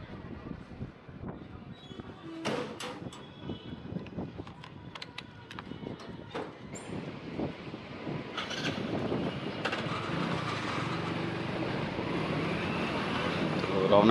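Riding a motorbike out toward Mohakhali in Dhaka, with wind buffeting the microphone in a rising roar and scattered sharp knocks early on, the rush building steadily louder toward the end.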